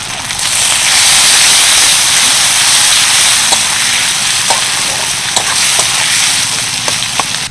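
Chopped onions and tomato with salt frying in a pan, a loud continuous hissing sizzle from start to end with a few faint clicks of stirring.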